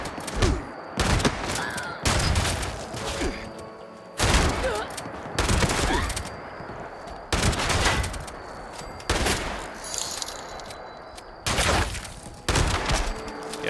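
Gunfire in Fallout 76 comes as repeated short, loud bursts separated by brief quieter gaps, about eight volleys in a steady stop-start rhythm.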